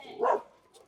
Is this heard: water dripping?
no